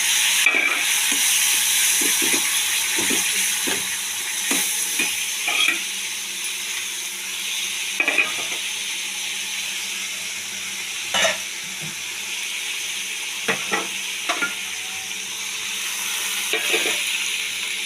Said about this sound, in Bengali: সবটা তেলে ভালো করে কষিয়ে এই কাঁচা লঙ্কা, আদা বাটা সবটা দিয়ে দিচ্ছি।